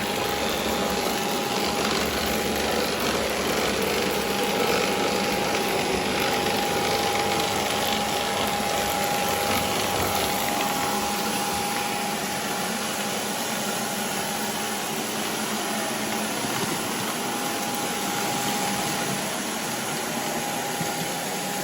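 A Bissell IconPet robot vacuum runs loudly while full of debris, including jelly beans, a steady dense mechanical whir with a rattling, ratchet-like churn and a constant high whine, close and unbroken throughout.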